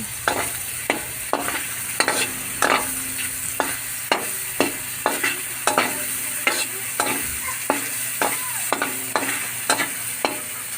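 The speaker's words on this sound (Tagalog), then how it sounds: "lutuin sa natin yung hotdog." Hotdogs fry in a pan under a constant close sizzle, with a spatula or spoon knocking and scraping the pan in a steady rhythm of roughly one tap every half second.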